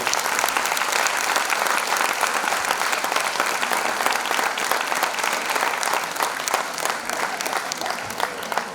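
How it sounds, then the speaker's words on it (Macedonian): Sustained audience applause at a nursing-week gala academy honoring plaque recipients, dense steady clapping from a large crowd throughout without pause. "Ја замолам за аплауз за сите добитници на плакетите."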